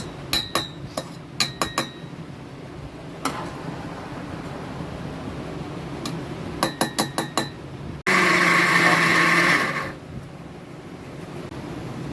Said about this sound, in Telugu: కొంచెం కొంచెంగా మిక్సీ వేసుకుందాం.